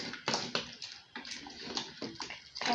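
Soft, repeated sloshing and scraping of chicken pepper soup being stirred in a pot, a steady rhythmic swishing at low volume.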